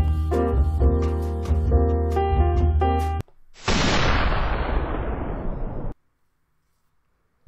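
A single loud sniper rifle shot with a long booming tail that decays into silence, following a stretch of tonal music, with no talk over it.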